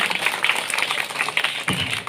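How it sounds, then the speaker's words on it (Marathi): Students clap at a school Independence Day event, a dense, continuous patter of many hands close by that stays fairly even for a couple of seconds, with no voices. "जोऱ्यात टाळ्या वाजवायच्या आहेत"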